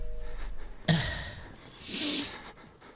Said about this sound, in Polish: to jest jego sapanie